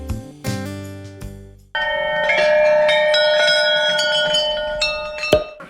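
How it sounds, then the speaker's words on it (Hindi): Several metal wish bells hanging at Jhula Devi Temple in Ranikhet ring out one after another, bright overlapping clangs with long sustained ringing tones that decay slowly, close and loud with no talking. "आपको कई सारे मन्नत की घंटी यहाँ पे बंधी हुई मिलेगी"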